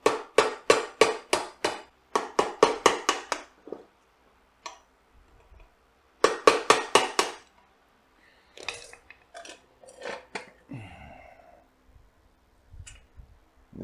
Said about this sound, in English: We're going to push that right through using a screwdriver and a hammer.